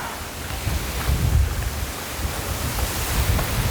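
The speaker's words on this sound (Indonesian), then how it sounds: "Di sini sedang angin kencang saudara" Strong outdoor wind roars steadily and buffets the microphone, with heavier low gusts swelling around the middle and near the end; no one speaks.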